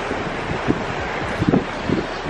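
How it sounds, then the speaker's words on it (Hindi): Cold wind blowing across the Indus river bridge construction site near Mianwali, a steady broadband rush of wind noise on the microphone with a few brief thumps and gusts, no voices. "और बहुत ठंडी हवा चल रही है माशाल्लाह।"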